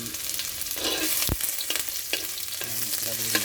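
Ginger sautéing in a hot wok for pork adobo gives a steady close sizzle with scraping stir strokes and one sharp clack of the spatula near the middle, with no talking.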